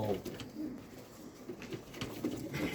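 Pigeons coo softly in repeated low, throaty calls, several birds overlapping at moderate distance with faint background noise.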